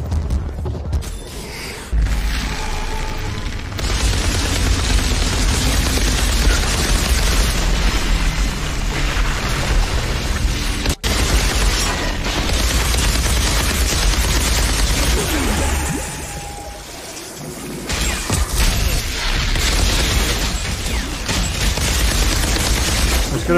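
Combat in the video game Outriders brings bursts of heavy gunfire, booms and explosions, dense and loud across most of the stretch, with a brief lull before the firing resumes.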